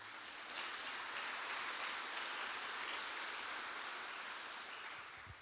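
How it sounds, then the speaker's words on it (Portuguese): A church congregation applauds, a dense continuous wash of many hands clapping, distant and steady for several seconds without a break. "Vamos aplaudir a palavra do Senhor."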